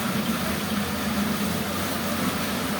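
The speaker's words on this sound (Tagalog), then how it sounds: "Ay, lumalakas na ang tubig, oh." Steady rushing water from a submersible waste water pump, a continuous churning gush with a low hum underneath, close and unbroken.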